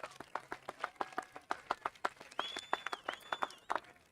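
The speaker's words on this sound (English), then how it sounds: "Please join me in a big round of applause once again for tonight's band" An audience at a high school graduation ceremony claps for the band, with sharp, close individual handclaps in an uneven rhythm and a faint high tone running through part of it.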